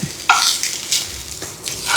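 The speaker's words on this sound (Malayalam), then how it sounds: "കുറച്ച് വെച്ചിട്ട് സമയമെടുത്ത് നമുക്ക് നന്നായിട്ട് വറുത്തെടുക്കാം." Grated coconut roasts slowly in a pan on low heat for pineapple theeyal, a quiet dry sizzle broken by a few scraping strokes of a spoon stirring it.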